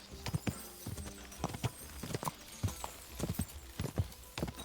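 Horse hooves clip-clop in a steady riding rhythm in Kingdom Come Deliverance 2, a series of hard, quiet knocks with faint tack sounds and no talk.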